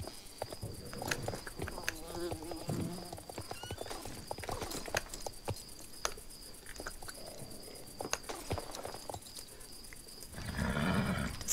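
Hooves clop steadily as a horse walks along in the video game Star Stable Online, with a whinny partway through and faint ambient chirping behind.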